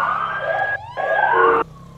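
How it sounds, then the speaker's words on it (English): A police car siren in the video game GTA 5 wails loud and close, its pitch sweeping up and down in a steady cycle with a brief dip partway through, and no talking over it. "You should hear my siren soon."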